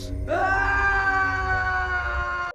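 A child screams in fear in a horror film scene, a single sustained, loud, high-pitched shriek that holds steady for over two seconds with no talk over it.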